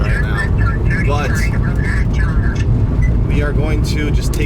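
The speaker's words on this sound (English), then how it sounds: "we're taking our time driving slowly back" A newly bought car with leaking brakes creeps slowly along side roads, giving a steady low rumble of engine and road noise heard from inside, with voices murmuring faintly beneath it.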